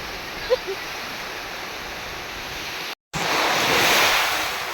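Strong wind and heavy rain during a storm at Sabang, Palawan, a steady broadband roar of gusts and downpour close to the microphone, briefly cut out before resuming louder.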